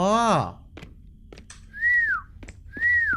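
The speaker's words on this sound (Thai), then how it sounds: "หมายถึงไอ้ผิวปากเรียกผี" Two rising-and-falling whistled notes in the horror video game Who is He, whistling to call a ghost, following a loud voice exclamation and a few soft thumps.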